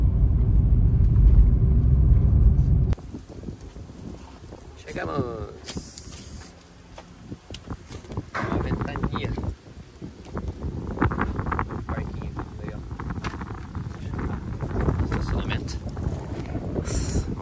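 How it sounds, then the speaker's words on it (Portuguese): Strong wind gusts through the small town of Caprino Veronese, loudly buffeting the microphone with a deep roar for the first few seconds, then easing into a lower rumble mixed with faint voices, footsteps and passing traffic. "Ventania também."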